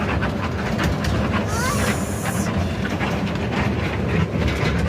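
A train on the Lumbini to Delhi line rolls along with a steady rumble and rattle, and a brief hissing burst rises in the middle.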